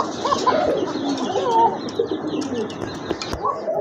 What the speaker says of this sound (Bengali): এক জোড়া বিডি কিং কবুতর রয়েছে